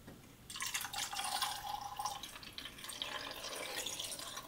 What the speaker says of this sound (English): we're going to start with putting in the developer